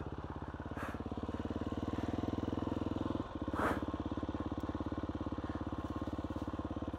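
KTM SX-F 350 dirt bike engine running steadily up close on a forest trail, a loud continuous four-stroke drone with a brief dip and rev burst midway.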